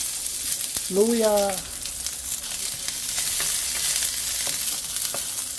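Garlic, onion and ginger sauté in hot oil in a pan, a steady close sizzle running throughout, briefly under a short spoken word near the start.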